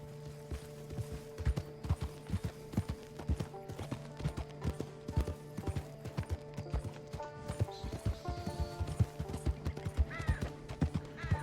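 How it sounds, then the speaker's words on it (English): A horse gallops in the video game Red Dead Online, steady rhythmic hoofbeats pounding over a droning music bed, with a short whinny near the end. "Try to be easy on the horse a little bit because it is really not meant for this type of..."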